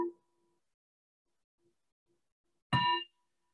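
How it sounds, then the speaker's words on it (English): A single meditation bell is struck once, a bright ringing tone with strong overtones that rises abruptly out of near silence and then fades quickly. "So the sound of the bell, again,"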